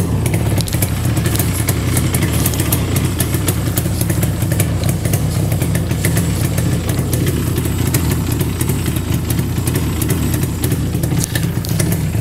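Yamaha RD 350 motorcycle with its engine idling steadily nearby, a loud continuous low rumble with clattery mechanical texture running throughout, no voices present.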